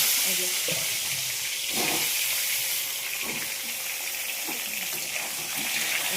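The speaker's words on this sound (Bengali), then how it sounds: "তো আমি এখন এই পটলগুলা তেলে ছেড়ে দিচ্ছি।" Pieces of pointed gourd frying in hot oil, a constant hissing sizzle with occasional soft knocks and stirring clatters, close and even, with a faint voice now and then underneath.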